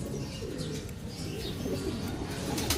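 Racing pigeons coo softly as they arrive back at the loft, low murmuring calls repeating over a steady background hum, with no voices.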